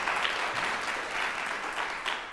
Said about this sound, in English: Clap for him again, please.